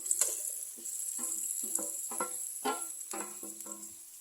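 Chopped shallots, green chili and grated coconut sizzle in hot oil for a bitter gourd thoran, with a steady soft frying hiss broken by repeated clicks of a spoon stirring the pan, no voices.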